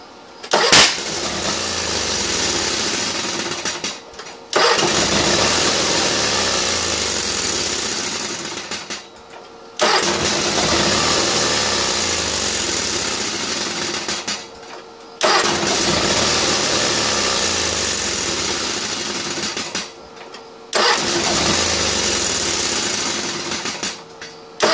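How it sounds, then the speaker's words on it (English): A Kohler engine with a freshly cleaned and lubricated starter cranks and runs loudly four times in a row, each run of about four seconds cut off abruptly before the next start. "Working great, except for the backfire. Starts perfect now."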